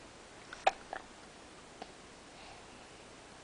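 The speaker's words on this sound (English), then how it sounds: "Oh, who's got the hiccups?" A person hiccups once sharply, followed by a couple of fainter catches spaced a second or so apart in a quiet room.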